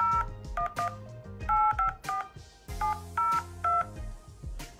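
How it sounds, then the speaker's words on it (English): Dialing a number on an Apple Watch keypad brings a quick run of clear telephone touch tones, each beep short and evenly spaced in small clusters, loud with nothing else heard. "You can go to the keypad as well, and you can dial any other number that you want"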